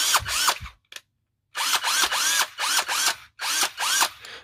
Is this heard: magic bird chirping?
no